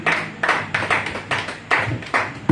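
A church congregation in a French-speaking worship service gives several short bursts of clapping in quick succession, fairly close and loud, with no talk over it.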